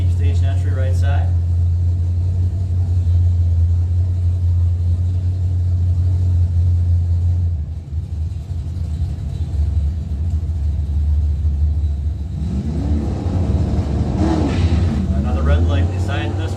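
Pontiac GXP drag car at a season-finale bracket race, its engine a loud steady low rumble throughout, with a brief dip midway before rising again, while a track announcer talks over it.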